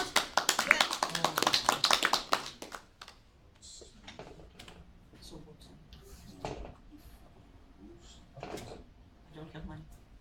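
An audience at a conference applauds in a dense burst of clapping for about two seconds, which thins to scattered claps and voices.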